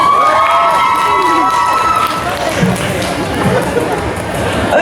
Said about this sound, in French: alors on peut vraiment les applaudir.